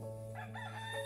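A rooster crows in a short, faint call within a steady humming background, heard alone without talk.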